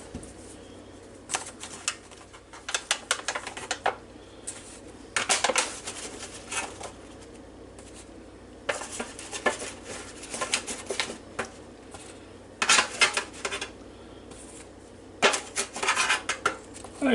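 Metal tongs clink and scrape against a pan while lifting freshly baked homemade biscuits, in scattered bursts of close, sharp clatter separated by quiet pauses.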